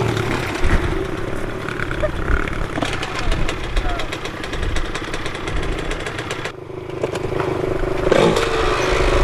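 A motorcycle engine runs and revs close by, a rough, clattering mechanical drone under steady conversation throughout.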